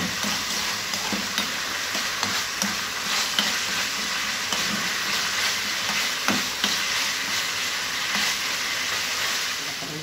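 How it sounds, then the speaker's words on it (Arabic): Steady broadband sizzle of onion and garlic frying in a pan, continuous throughout, with occasional soft stirring knocks and clicks close by. "ماشي كده انا بعمل لها التقليه"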